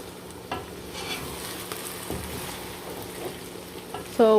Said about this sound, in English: you can see our okra is frying up nicely.